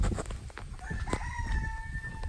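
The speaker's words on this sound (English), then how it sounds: "I hear Richard cockadoodling." A rooster crows once at middle distance, a rising then sustained cock-a-doodle-doo over background clucking and rustling from a flock of chickens.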